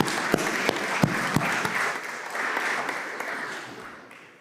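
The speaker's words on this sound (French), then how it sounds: "je vous demanderai de les applaudir par rapport à leur travail qu'ils font" At a conference, the audience applauds the interpreters: a burst of crowd clapping with a few sharp claps close by, fading gradually toward the end.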